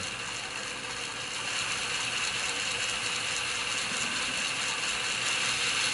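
Hornby Black 5 OO gauge model steam locomotive running on a rolling road, giving a continuous, even mechanical whir and gear buzz at close range, steady and moderately quiet.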